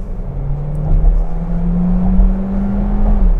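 A 2020 Skoda Karoq with a 1.5 TSI petrol engine pulling hard to overtake, heard from inside the cabin as a steady droning whir whose pitch climbs smoothly, then settles briefly near the end.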